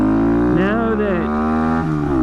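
A Honda Monkey motorcycle engine runs steadily and loud up close while its pitch rises and falls a little as the rider accelerates gently, struggling to find neutral, with someone talking over it.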